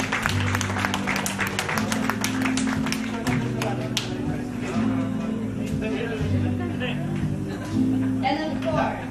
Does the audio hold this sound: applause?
yes